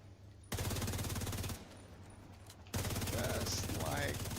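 A missile is fired at a player in The Division 2, heard as loud sustained bursts of firing and explosion noise, then a short lull and another loud barrage.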